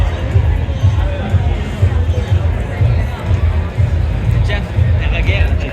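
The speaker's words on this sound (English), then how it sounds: "I'll show you some of the crowd. It's very crowded today." Crowd of visitors at the Miami Concours car show among hypercars, a dense steady murmur of many voices mixed with low outdoor rumble, continuous and close around the listener, with a person talking in it.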